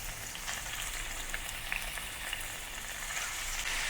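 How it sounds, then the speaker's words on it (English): Beef searing in hot oil for a slow-cooker Madras curry, giving a steady broadband sizzle with scattered small pops and crackles, fairly close and unbroken, with no talking. "Sear the beef in hot oil until both sides start to develop some char marks"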